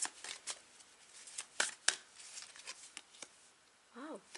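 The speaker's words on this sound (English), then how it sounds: "Was told to shuffle some more." Tarot cards being shuffled in a pick-a-card reading, giving a run of soft riffling slaps and sharp card snaps up close, followed by a brief sliding sweep at the end.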